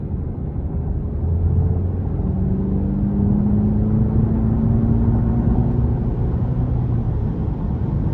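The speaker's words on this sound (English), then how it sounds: "I love how this 2-liter turbo pulls along with this 10-speed automatic, just so seamless." Cadillac CT5 with a 2.0-liter turbo engine and 10-speed automatic pulling steadily from inside the cabin, a continuous low rumble with a rising engine note and no talking.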